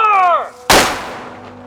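A reenactment cannon fires a reduced powder charge: one sudden, loud, close blast follows a brief shouted fire command, then its roar decays and rumbles away over about a second.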